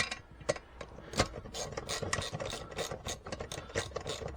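A size 13 long reach socket turns a seat nut on a Puch SR moped, giving quiet close ratcheting clicks and scraping rubs in an uneven rhythm.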